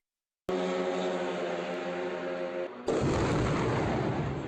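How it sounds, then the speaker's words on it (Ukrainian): A Russian Shahed drone striking a residential neighbourhood of Sumy at night: a loud, sustained roar holds for about two seconds, then a sudden harsh blast of broadband noise rumbles on to the end, with no speech. "Це момент влучання російського шахеду в ніч на 30 січня у спальному мікрорайоні Сум"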